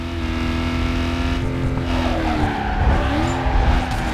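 Ford Mustang GT from NFS Carbon drifting, its engine droning steadily with rising and falling revs while tires squeal and skid continuously, loud and close throughout.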